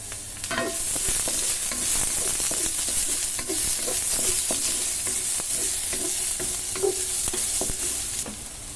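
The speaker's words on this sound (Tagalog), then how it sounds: "Bigisa na tayo guys ng bawang, sibuyas, at onion." Garlic and onions sauté in a hot pan with a steady, loud sizzle, while a utensil scrapes and stirs in frequent short strokes throughout.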